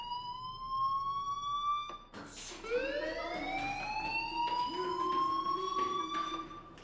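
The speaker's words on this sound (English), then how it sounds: "Hey, do you hear that fire alarm?" A fire alarm in the video game Life Is Strange rings out as a sustained electronic siren-like tone that breaks off briefly and then returns with rising, wavering pitch. Someone speaks faintly underneath.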